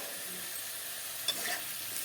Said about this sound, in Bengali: আলুগুলোকে লাল করে ভেজে নিই